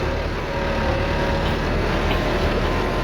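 A Kubota tractor works in a fig orchard, its engine a constant, loud, dense drone that stays steady and unbroken throughout.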